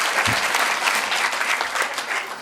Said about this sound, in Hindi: Clap, everyone clap for yourself.